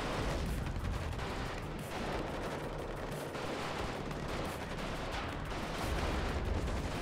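Sustained gunfire and fire support from the WARNO strategy game, dense overlapping shots and bursts rolling continuously at high level throughout with no talk.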